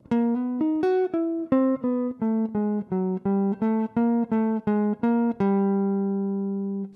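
Slow jazz phrase over a set of chord changes, played on a single pitched instrument as about fifteen clearly separated notes climbing and descending, ending on a long held tone, loud and close with no talk.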